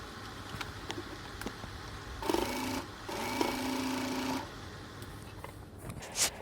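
A sewing machine stitches a folded cloth neckline on a high-low flared top. It runs in two short bursts of a few seconds each, with a brief pause between them, against a quiet room.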